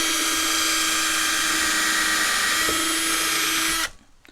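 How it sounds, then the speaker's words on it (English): A power drill bores a hole through a wooden benchwork board, a loud steady whine that runs for almost four seconds and then stops abruptly, leaving near silence. "drill a hole,"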